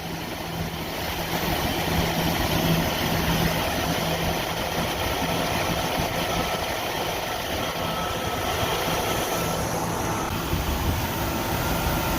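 A 1988 Jeep Wrangler YJ with the 4.2L engine idles low and steady during carburetor and timing adjustment, a continuous mid-pitched rumble with a faint hum, no talking over it.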